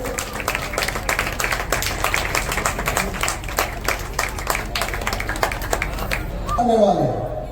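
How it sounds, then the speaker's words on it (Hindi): Audience applause at a community welcome, many hands clapping in a steady rapid patter near the listener, ending with a swell of crowd noise as someone talks over it. "ताली बजाकर हम प्रमोद जी का स्वागत करें।"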